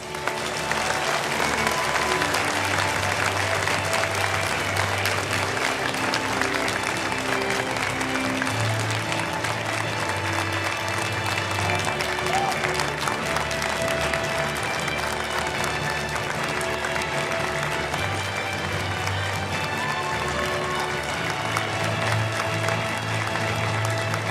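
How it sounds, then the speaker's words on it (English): A large conference audience at the Global Peace Leaders' Conference applauds to welcome Chairman Lee Man-hee, loud sustained clapping lasting over twenty seconds with steady density, faint crowd murmur and a low musical drone underneath. "let us welcome Chairman Lee Man-hee with a big round of applause"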